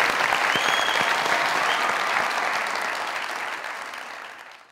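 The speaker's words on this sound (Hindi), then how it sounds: "आइए अनी साहब के लिए तालियां" A studio audience at a Pakistani comedy talk show breaks into loud, dense applause welcoming a guest onto the stage, sustained and close before gradually fading toward the end.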